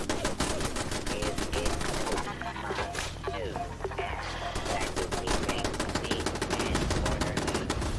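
Automatic turrets fire in bursts in the video game Fallout 76, a dense rapid chatter of gunfire that runs almost the whole time with a short thinning in the middle, loud and close over a busy game soundscape.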